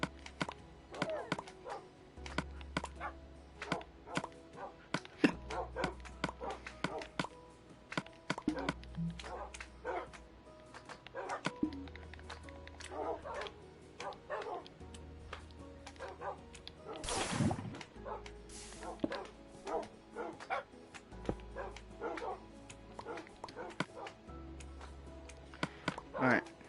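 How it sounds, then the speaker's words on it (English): Tamed dogs in the Minecraft video game whimper and yip in short repeated bursts while a player feeds them to restore health, with clicks and chopping sounds and a steady low tone underneath. "So let's feed all the dogs."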